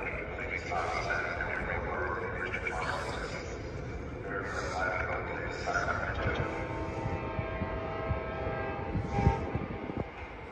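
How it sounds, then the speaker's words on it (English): Amtrak Capital Corridor passenger train, cab car leading, pulling into Oakland's Jack London Square station, heard as a steady rumble with squealing wheel tones and a brief clank near the end, under station noise and voices. "here comes Amtrak Capital Corridor Train 542"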